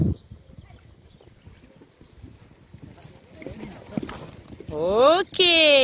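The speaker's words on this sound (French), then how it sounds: "tu l'as mis au galop, il n'a pas besoin de repasser au trot" Horse hooves cantering in a dressage arena: a rhythmic series of soft, dull hoofbeats, quiet at first and growing closer, with a person speaking loudly over the final seconds.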